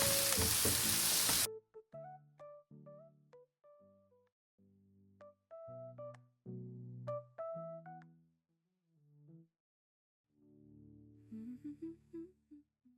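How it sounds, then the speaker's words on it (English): Sweet potato frittata sizzles loudly in a pan on high heat for a moment before a sung melody takes over and the frying drops away. "Sizzle in the pan, heat on high."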